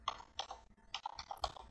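A computer keyboard clicks softly as a transaction password is entered, a handful of quiet separate keystrokes in uneven rhythm, close and faint with no talk.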